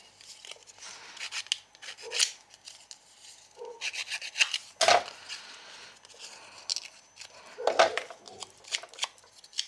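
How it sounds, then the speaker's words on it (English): Distress tool scraping the edges of paper pieces for a scrapbooking layout, giving irregular close rasping strokes in short bursts with quiet gaps between. "Here is my distress tool."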